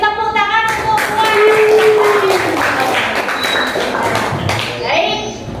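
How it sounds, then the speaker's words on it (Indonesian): Classroom applause during a teacher's lesson, a steady wash of hand clapping lasting several seconds with children's voices and chatter mixed through it. "kita beri tepuk tangan untuk Puan."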